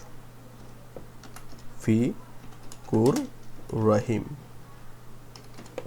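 Text being typed on a computer keyboard in Photoshop, with faint, sparse key clicks under someone speaking steadily.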